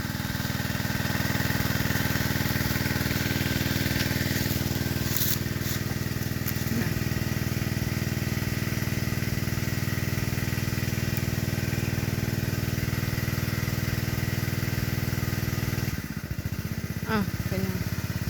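A small engine driving a water pump runs in a steady, loud, close drone with an even low hum throughout, shifting briefly near the end.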